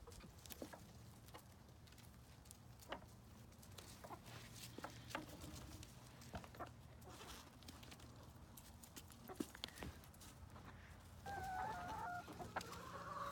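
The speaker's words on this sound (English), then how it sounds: "Chickens are scared." Frightened chickens cluck close by in short, uneven bursts over a quiet farmyard background, with a few louder squawks. The noise rises near the end.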